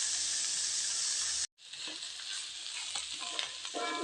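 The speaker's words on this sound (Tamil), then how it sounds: "இப்போ வெங்காயம் நல்லா வதங்கிடுச்சிங்க, எண்ணெயிலே நல்லா வதங்கிடுச்சிங்க." Onions and curry leaves sauté in hot oil for a masala chutney, giving a loud, even frying hiss that briefly drops out, then returns with a crackling sizzle and faint stirring sounds.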